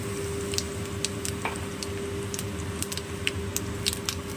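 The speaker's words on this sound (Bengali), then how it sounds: "এবার ওই তেলের মধ্যেই আমি দিয়ে দেব কালো জিরে ফোড়নে" Nigella seeds crackle in hot oil left over from frying hilsa fish, a steady close sizzle with scattered tiny pops and a faint constant hum throughout.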